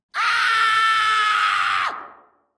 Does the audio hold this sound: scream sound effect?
yes